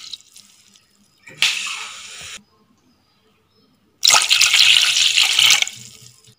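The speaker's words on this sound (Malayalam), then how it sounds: "അപ്പൊ രണ്ട് ഗ്ലാസ് വെള്ളം ഒഴിക്കുക." Two glasses of water are poured into a pot for garlic tea in two separate splashing bursts, close and fairly loud, with near silence between them.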